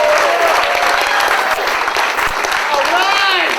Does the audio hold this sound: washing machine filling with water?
no